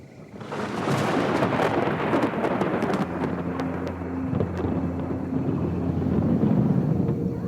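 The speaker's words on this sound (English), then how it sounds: "a storm brings more turbulence to the manor." A thunderstorm over meerkat territory in the Kalahari: a loud, sustained roar of rain and wind with rolling thunder rumbling through, steady and close from start to finish with no voices.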